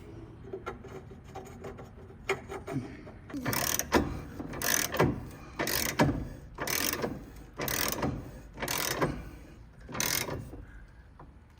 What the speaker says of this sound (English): So I've got a 7/8 socket. We'll put it on.